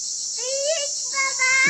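Crickets chirp in a garden in a natural outdoor setting, a steady high-pitched trill running continuously, with a voice briefly heard over it.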